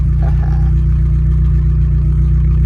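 A turbocharged KA24E-T engine in a Nissan 240SX idles steadily, a loud, continuous low rumble with an even pulsing throb and a faint mechanical whir over the top.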